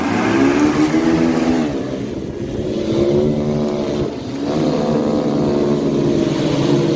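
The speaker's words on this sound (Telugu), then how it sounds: "డ్రోన్ స్టార్ట్ చేస్తాం." Agricultural spraying drone starting up over a paddy field, a loud, steady motor whine with harmonic tones that dip briefly twice and then climb back, close by and heard on its own.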